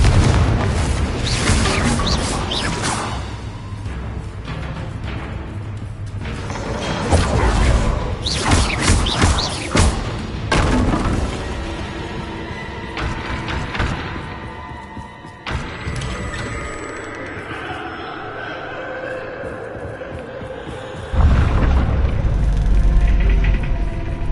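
Bombarda spell blasts in the Hogwarts Legacy video game: loud, booming explosive bursts, several in succession with crackling debris and magical whooshes, ending in a heavy low-end impact.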